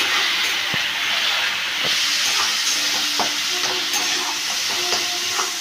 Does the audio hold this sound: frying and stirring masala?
yes